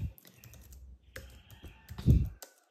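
Typing on a computer keyboard, quiet irregular clicks and taps in short bursts with gaps between, close and soft, no talk.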